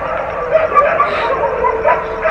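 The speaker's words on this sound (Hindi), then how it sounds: "तब तक ये देखिए कितनी तेज़ भौंकना शुरू हो गए हैं, चुप ही नहीं हो रहे हैं" Several dogs bark loudly and persistently in quick, overlapping yaps and yips with a few whimpers, close by and continuous.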